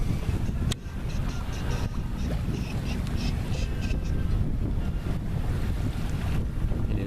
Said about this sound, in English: Winds are up a little bit, about 15.